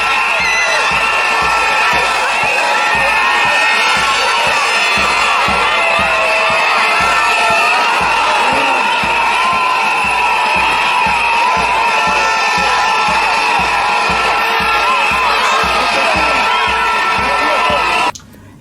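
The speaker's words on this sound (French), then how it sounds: "Certaines manifestent leur joie à travers des cris et des sifflets." A large crowd roars continuously with cheering, shouting and whistles, loud and dense from start to finish, cutting off abruptly at the end.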